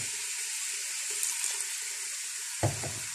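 Water runs in a steady, hissing stream into a cooking pot of chicken nihari for several seconds, ending with a short splash near the close.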